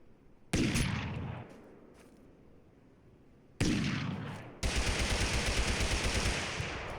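Flintlock firing in Totally Accurate Battlegrounds, loud sharp gunshot blasts standing alone with a decaying tail, followed by sustained rapid gunfire-like crackling.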